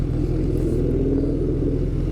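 An older pre-2015 Ford Mustang 5.0 V8 with a deep, steady idling rumble, close and loud throughout, with no voices.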